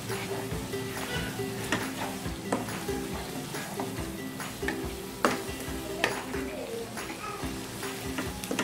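Egg malai curry with fresh coriander being stirred in a pan over a raised flame: a steady close sizzle with repeated spoon scrapes and light clinks against the metal, no talking.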